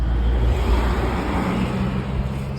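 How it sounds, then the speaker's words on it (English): A car passes behind a cyclist on a suburban road climbing a 5% hill, a steady low road rumble that holds fairly loud for the whole stretch, with no talk. "There's a car behind me"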